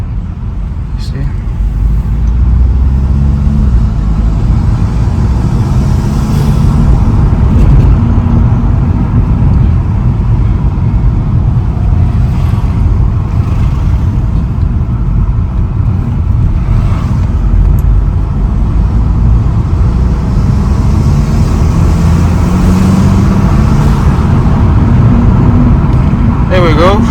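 An Audi A3 1.8 TFSI with a DQ250 DSG gearbox drives steadily, its engine and road noise forming a constant close drone inside the car, with slight changes in pitch as the gearbox shifts.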